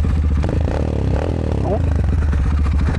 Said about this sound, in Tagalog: Lakas din ang muffler eh, oh. Na parang naka aftermarket pipe na siya agad